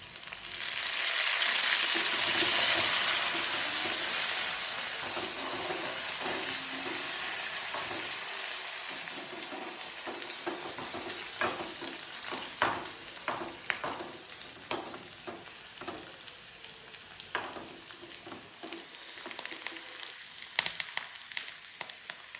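Browned onion and curry leaves fry in a pan: a loud hissing sizzle at first that gradually settles, followed by repeated clinks and scrapes of stirring over a softer crackle.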